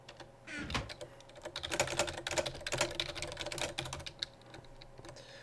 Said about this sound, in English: I don't like typing.